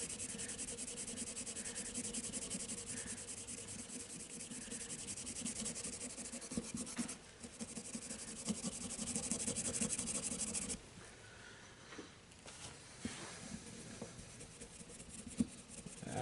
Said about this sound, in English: I'm going to grab a Scotch-Brite pad, okay?